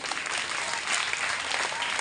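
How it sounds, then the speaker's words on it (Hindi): A group of schoolchildren at an Independence Day celebration claps together in steady, sustained applause, fairly close and even in loudness for the whole stretch. "तालियां बजाओ बच्चों"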